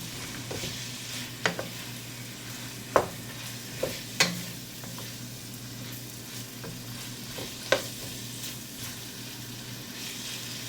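Onion frying in a pan while being stirred, a soft continuous sizzle broken by several sharp scrapes and taps of the spoon against the pan, fairly quiet and without speech.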